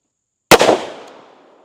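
A single sharp, loud gunshot from a Smith & Wesson R8 .357 Magnum revolver firing a 158-grain soft-nose round at a 7-yard range, followed by a ringing decay that fades over about a second.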